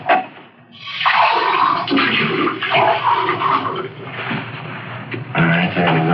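Water runs from a tap into a glass in an old radio drama, a steady rushing splash lasting several seconds, close and fairly loud, followed by a brief clunk of the glass.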